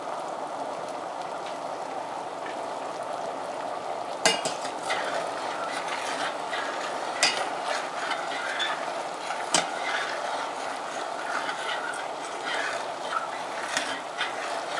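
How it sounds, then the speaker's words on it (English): Maple sap boiling hard in an evaporator pan, a constant bubbling hiss and churn heard close, with a few sharp clinks and knocks from stirring and no voice. "Now this is what's called going to a full boil."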